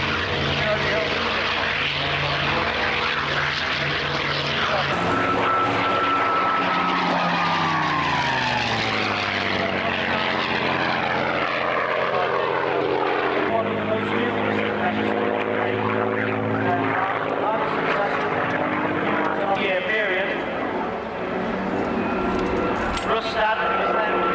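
A propeller-driven warbird aeroplane flying aerobatics at an air show: a loud, steady engine drone that rises and falls in pitch as the aircraft maneuvers, with someone talking continuously over it.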